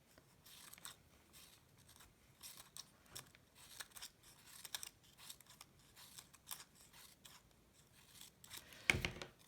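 Scissors snipping through white paper while shaping a sculptural paper mask, a run of quiet, irregular close-up cuts and crisp rustles, one louder snap near the end.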